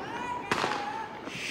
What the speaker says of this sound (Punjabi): ਸਾਰਿਆਂ ਨੇ ਪਟਾਕੇ ਚਲਾਉਣੇ ਕਰ ਦਿੱਤੇ ਆ ਜੀ ਬੰਦ ਸੋ ਹੁਣ ਸਾਡੇ ਚੱਲਣਗੇ ਜੀ ਪਟਾਕੇ